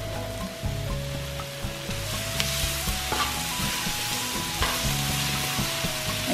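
Shrimp lo mein sizzles steadily in a hot pan as it is stir-fried and tossed, a loud continuous crackle with periodic scraping and shaking bursts.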